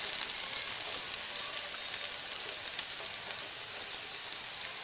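Chopped ivy gourd (dondakaya) fries in oil in a pan for a coconut stir-fry, making a loud, dense, continuous sizzle that holds steady throughout with no voices.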